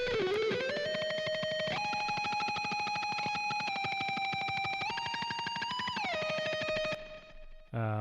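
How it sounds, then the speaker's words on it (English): A sustained electric guitar tone drenched in delay and reverb, stepping through a few held pitches with a shimmering, dense wash before it cuts off. "Lots of delay and reverb."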